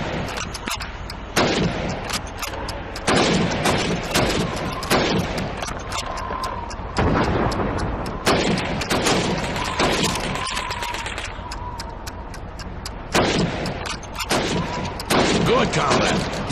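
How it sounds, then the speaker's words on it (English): Rifle fire at helmets on a Red Army training range in Call of Duty 2, with loud rapid-fire shots in bursts and short pauses, plus echoing range gunfire and talking throughout. "You have 15 seconds to shoot the helmets."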